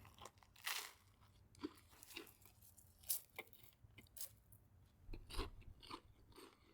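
Someone crunches and chews a Cool Ranch flavored snack up close, with irregular crisp bites and softer chewing between them, quiet and without talk.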